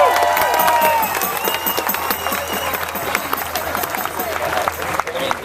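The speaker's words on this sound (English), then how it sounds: "Let's give a round of applause for Diana." A crowd at an Occupy Los Angeles general assembly claps and cheers in a dense, steady round of applause, with voices calling out over it as it slowly fades.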